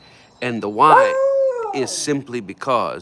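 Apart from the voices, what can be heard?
dog howling for attention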